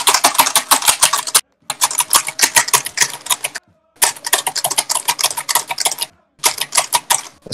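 Rapid clattering keystrokes on a computer keyboard, dense bursts of typing close to the mic, separated by a few short pauses.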